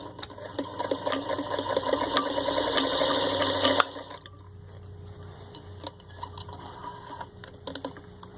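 A vintage 1948 Singer 221-1 Featherweight electric sewing machine stitches at a steady, fast rhythmic whir for almost four seconds. It then stops, leaving faint ticking and quiet mechanical clicks.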